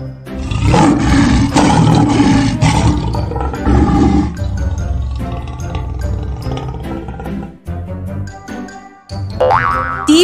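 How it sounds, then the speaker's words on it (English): Tiger roaring loudly in several long, rough bursts close up, with a bouncy cartoon sound effect mixed in near the end. "T for tiger."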